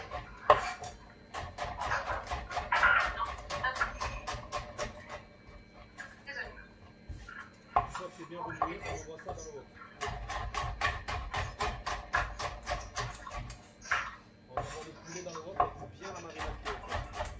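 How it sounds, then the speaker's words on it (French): Knife slicing onions very finely on a board during a chicken and vegetable wok cooking session, a long run of quick, steady taps with clattering utensils and frequent talking throughout. "Pendant que ça chauffe, on va émincer les oignons. On les émince très finement."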